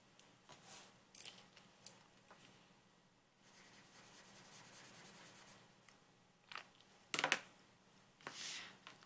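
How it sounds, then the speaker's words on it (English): Scissors snip through scrap paper at close range, with a few sharp cuts separated by quieter rustling and a steadier stretch of cutting in the middle, and no talk. "You just get a piece of scrap paper and just cut away."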